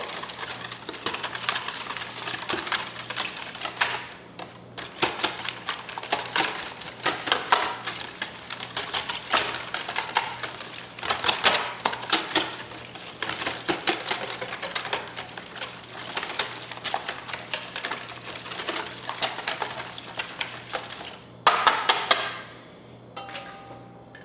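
Eggs for an egg wash beaten rapidly with a fork or whisk in a bowl, making fast continuous clicking and tapping against the sides, close and busy with brief pauses.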